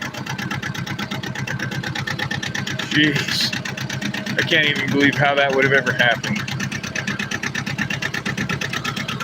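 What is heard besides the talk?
tractor engine running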